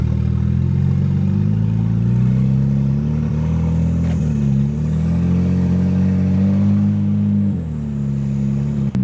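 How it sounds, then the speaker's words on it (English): BMW 335i wagon with an open downpipe, a loud close engine drone under way with a rising and falling high turbo whistle layered on top, steady throughout. "It's just all turbo spool. Of course, it's open downpipe, so it's gonna sound loud and very turbo-y."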